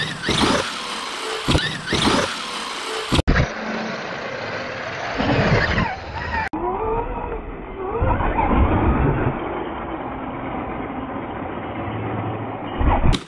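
A Traxxas RC monster truck's electric motor whines and strains as it climbs a big tree, its loud, rising-and-falling drone continuous with clunks and scrapes from the tires and chassis.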